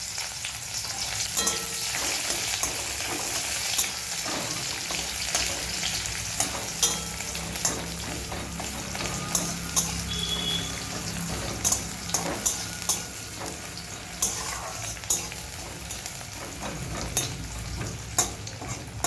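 Chopped onions fry and sizzle in a pan while a utensil stirs them, with scraping clicks and knocks over a steady hiss and no talking.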